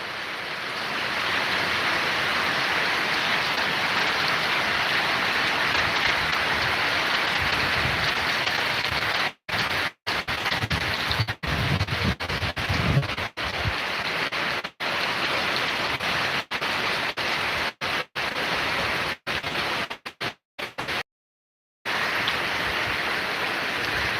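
Steady first monsoon rain pours down and builds in intensity, a dense continuous hiss with brief dropouts, close and loud with no voices.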